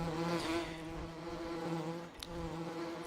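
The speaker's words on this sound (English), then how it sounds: "You hear them bees?" Bees drone steadily at a pair of bee houses in the Farming Simulator 17 video game, a continuous layered buzz at moderate level with no talking.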